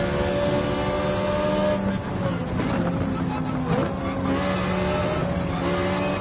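Race car engine revving hard around Laguna Seca in Gran Turismo 7, a continuous high, buzzing tone climbing and shifting in pitch as gears change, with someone commentating over it throughout.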